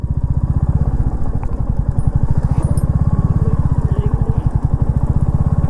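A Commando-style motorcycle rides through deep desert sand near Jaisalmer with a loud, close, steady engine thump and rhythmic chugging throughout, plus faint wind and clatter and no talking.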